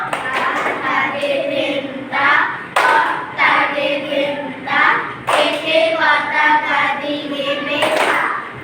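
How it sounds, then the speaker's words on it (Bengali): Children chant together in a rhythmic, sing-song way, punctuated by a few sharp hand claps spaced through the chant. "হাতে তালি দিয়ে বলো হাতে তালি দাও তিনটা"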